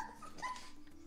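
A dog in the video game The Dog's Life gives a brief, soft whimper, a thin high whine over a quiet low hum, lasting about a second.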